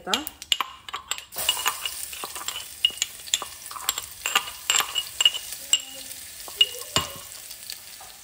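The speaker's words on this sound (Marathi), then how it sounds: "कढीपत्ता, आणि लसूण टाकायची" Curry leaves and garlic crackle and sizzle in hot oil, a loud burst of spattering with sharp pops and clinks of a utensil against the pan, close and without talk.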